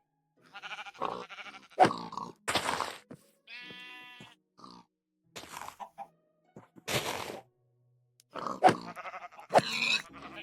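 Sheep in the Minecraft video game bleat in short separate bursts, several loud wavering calls with silent gaps between them, mixed with a few grunts.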